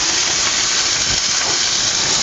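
Steady, dense sizzling of chopped onion and green chilli frying in hot oil, a constant bright hiss close to the pan with no pauses.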